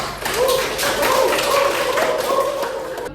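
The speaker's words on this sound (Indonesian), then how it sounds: "kasih aplaus dulu untuk kelompok 2" A steady wash of clapping from a classroom of students applauding group 2, even and sustained for about three seconds, close and fairly loud.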